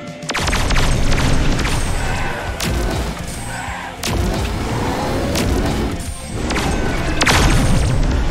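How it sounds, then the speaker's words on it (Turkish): Bowling ball thrown backwards in the video game Tower Unite, with loud booming crashes and thuds repeating across several seconds amid dense, busy game noise. "Arkaya doğru bir bowling top atıyorum bak"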